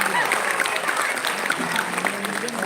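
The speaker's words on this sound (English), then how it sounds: "Lovely team, a huge round of applause" Audience applause rings out for a dance team performing the Dolu Kunita folk dance of Karnataka at a company Founders Day event, with dense, steady clapping across the whole moment and some crowd murmur mixed in.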